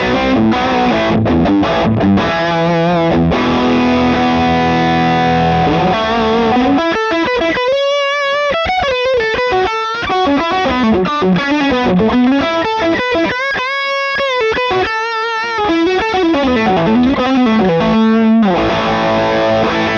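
Heavily distorted electric guitar tone from an FM9 amp modeler with the master volume turned all the way up, played loud as continuous riffs and sustained chords with no talking.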